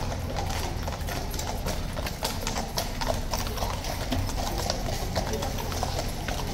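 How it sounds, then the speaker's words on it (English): Horses' hooves clip-clop steadily at a moderate distance on a calm morning, an even rhythm of hoof strikes over faint crowd murmur and occasional speech. "Happy horses."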